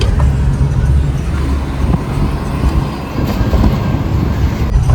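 The late Borkhad Barwali train pulls in on a journey to a Konkan village for the Ganpati festival, a close, heavy rumble of wheels and body noise that surges and stays loud throughout, with no talk.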